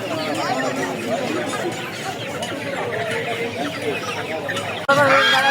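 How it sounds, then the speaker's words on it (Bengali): Brahma chickens and other fowl cluck continuously at a traditional Golakandail duck and chicken market, with crowd chatter and voices mixed throughout and a louder burst of noise near the end. "মাসাল্লাহ অনেক সুন্দর সুন্দর মুরগি কালেকশন"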